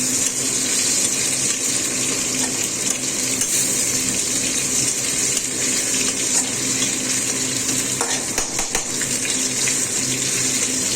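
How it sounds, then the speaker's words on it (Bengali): Potatoes lightly frying in oil in a pan, browning before ridge gourd goes in for a simple rohu fish curry: a steady, dense sizzling hiss runs unbroken throughout with no talk. "আগে আলুটা একটু ভেজে নিচ্ছি হালকা করে, লাল লাল করে।"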